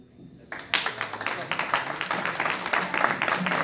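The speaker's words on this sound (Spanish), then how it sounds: "Muchísimas gracias, los aplausos fuertes." Loud applause breaks out suddenly after a brief quiet start at a ceremony in El Alto honouring the Always Ready football club, continuing as dense, crowded clapping until the end.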